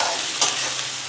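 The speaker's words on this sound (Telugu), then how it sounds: "తర్వాత కరివేపాకు, ఉల్లిపాయలు వేసుకున్నానండి, ఉల్లిగడ్డలు వేసానండి," Onions and curry leaves fry in a pan for a mixed vegetable curry, a dense even hiss of hot oil with one faint tap partway through, close and uninterrupted.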